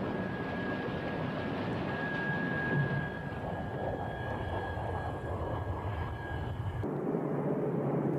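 A MiG-29 fighter jet roars during a takeoff that ends in a crash. A loud, dense, continuous engine roar with a thin steady whine fills most of the stretch, then cuts abruptly to a quieter, duller rumble near the end.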